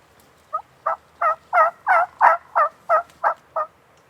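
One wild turkey gobble rings out in spring mountain backwoods in Washington: a single clear, fairly close burst of about ten quick, throaty pulses that swell and fade over a few seconds.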